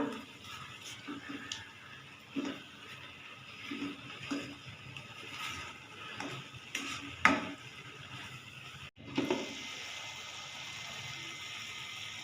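Grated carrots are stirred and roasted in a pan over medium heat. A spoon scrapes and clinks against the pan in irregular strokes over a faint background hiss, close and moderately loud, with a sharp bump near the end.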